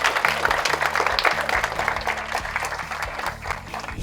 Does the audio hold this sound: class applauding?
yes